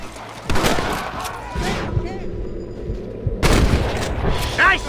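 Gunfire in the Western video game Red Dead Redemption: several loud booming shots crack out close by, with sharp transients near the start and again after the midpoint over busy game ambience, and voices call out between them.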